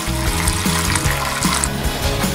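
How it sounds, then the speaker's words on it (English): Water pours steadily into a pot of apples for homemade apple cider, a continuous close, loud splashing stream with no talking. "Then we add in the water,"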